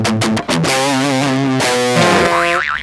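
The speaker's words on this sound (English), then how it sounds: "we wind up with a guitar tone that sounds like this" Electric guitar through a Fryette Power Station with no speaker cabinet simulation, a loud, harsh, fizzy distorted tone playing choppy notes and a wobbling bent phrase, close and alone.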